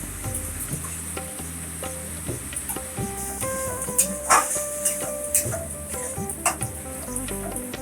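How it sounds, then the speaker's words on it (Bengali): Masala sizzling in a pan with cashew-raisin paste and sour yogurt added, a steady close frying hiss with scraping stirs and occasional clanks throughout. "মশলাটা তেল ছেড়ে গেছে এবার ওর মধ্যে কাজু কিশমিশ বাটা দিয়ে দিলাম এবার মধ্যে টক দইও দিয়ে দিলাম"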